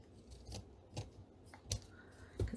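Scissors snipping through paper for a handmade card, several separate crisp cuts spaced apart, close and fairly quiet with no talking.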